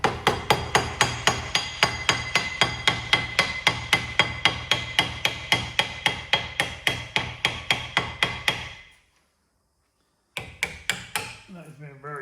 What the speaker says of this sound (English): Just get yourself a hammer and give them a little tap.